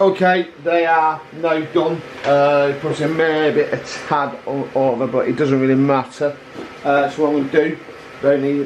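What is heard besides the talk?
No everyday noises stand out.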